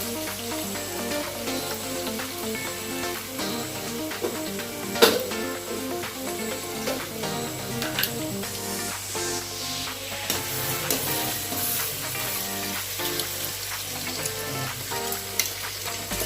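Onions frying in a pan with ginger, green chilli and garlic paste for chicken biryani, a steady close sizzle with occasional stirring clinks, no talk.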